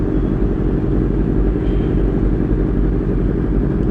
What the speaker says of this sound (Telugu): మన ఈ 3 బైక్స్ సౌండ్ మాత్రం ఇట్లా రీసౌండ్ కొడుతుంది ఇక్కడ.